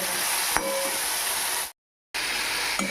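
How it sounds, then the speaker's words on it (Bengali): Tomato, ridge gourd and small fish curry fries and gets stirred in a pan, a dense close hiss with one sharp utensil knock, cut by a brief gap of silence before the sizzle resumes. "এবার এটা ভালোভাবে মিশিয়ে কিছুক্ষণ আবার নেড়ে চেড়ে নেব"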